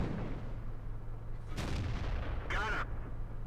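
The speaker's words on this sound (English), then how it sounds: "I'm just going to keep firing because he's tracked, so keep my gun aimed in and keep firing." A tank's main gun fires in World of Tanks, with a low rumbling engine drone throughout, over which a couple of sharp booming shots go off about a second apart.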